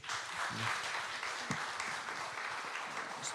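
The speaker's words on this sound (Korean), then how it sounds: "박수 한번 보내주세요" An audience at a game creation audition event applauds a participating team, steady crowd clapping that stays fairly faint and even for the whole stretch, with no voices over it.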